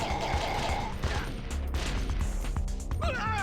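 Gunfire bursts and crashing impacts from the Metal Gear Solid: The Twin Snakes video game fill a loud, dense action scene, with rapid shots layered over rumbling effects and a short bright metallic ringing near the end.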